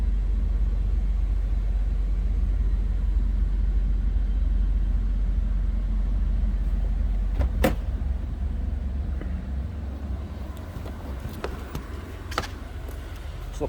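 A stock 2001 Honda S2000 convertible idles in neutral, a steady low engine rumble heard up close, with a few brief clicks and knocks near the end.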